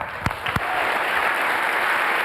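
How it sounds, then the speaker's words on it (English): Audience applause at a technology talk on ending death, opening with a few distinct claps that quickly swell into loud, steady, sustained clapping from the crowd. "I kind of like to just stop for a quick moment here and ask everybody to join me in a round of applause for Dmitry."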